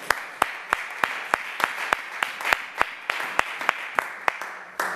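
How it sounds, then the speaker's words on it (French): Church congregation at a French-language prayer service claps in a regular rhythmic beat, sharp evenly spaced claps over a steady murmur. "Applaudissons la parole de Dieu."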